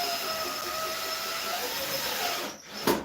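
Power drill driving a screw at an angle into a 2x4 during wall framing, a steady close motor whine that cuts off abruptly, then a brief clunk at the end.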